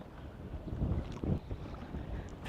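Gusty wind rushes across the microphone on a lake while fishing from a boat, a loud, rumbling, uneven roar with bursts rising and falling and faint water movement beneath.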